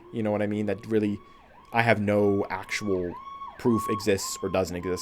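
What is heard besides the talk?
emergency vehicle sirens passing outside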